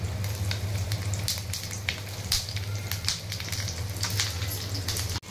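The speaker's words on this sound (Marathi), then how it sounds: "आता आपलं सगळं व्यवस्थित टाकून झालेलं आहे तेलामध्ये." Green chillies frying in hot oil in a pan on a gas stove, a close, loud, continuous crackling sizzle with dense pops throughout.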